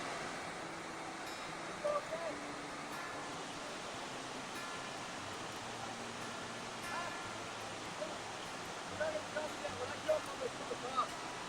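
A steady, broad roar of rushing water from Harper Creek Falls fills the background from a distance, with faint voices and a few handling bumps on top.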